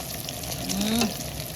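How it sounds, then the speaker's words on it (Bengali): Snakehead fish pieces fry in oil in a wok, giving a steady low sizzle with a brief tonal whine near the middle. "মা একদম লাল লাল করে মাছ ভাজছে"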